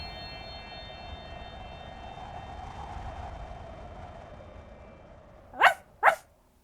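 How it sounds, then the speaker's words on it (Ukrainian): A dog barks twice in quick succession from another room, the two sharp barks standing out near the end over a steady low hum and faint background tone. "Раптом Ре почув гавкіт Меркурія з іншої кімнати"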